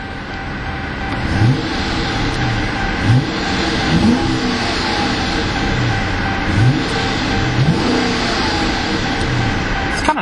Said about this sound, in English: Now let's take a listen to that growl of that Hemi and see what it sounds like.